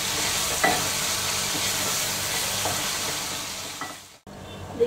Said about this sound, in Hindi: मीडियम फ्लेम पे फ्राई कर लेंगे प्याज को सॉफ्ट होने तक।